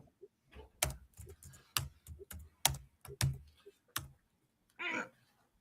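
Someone types on a computer keyboard, irregular bursts of close, crisp key clicks and clacks with short pauses between them, plus a brief soft breathy sound near the end.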